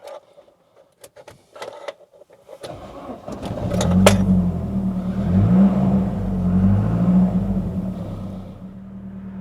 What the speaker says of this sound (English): let's start him up and we'll get out on some better roads